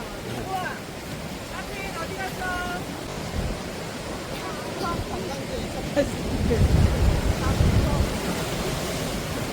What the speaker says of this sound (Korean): 여기가 파도가 더 심한가 봐.